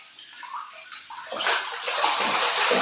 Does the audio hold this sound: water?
yes